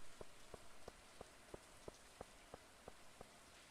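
Rain falling in the farming game Stardew Valley, a soft steady patter with small drips ticking at a regular rhythm, quiet and alone with no voices.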